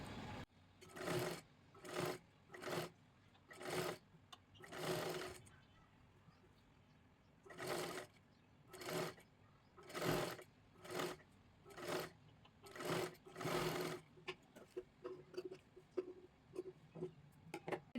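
A sewing machine stitches a princess blouse in repeated short bursts with brief pauses between, close by and fairly quiet, ending in lighter ticking.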